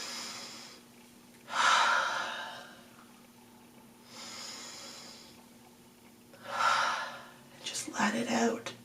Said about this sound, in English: take a deep breath, just